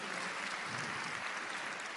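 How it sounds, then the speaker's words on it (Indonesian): Church congregation applauding, a steady dense wash of many hands clapping throughout at moderate level, with no voices standing out. "Yang setuju berikan tepuk tangan yang meriah buat Tuhan."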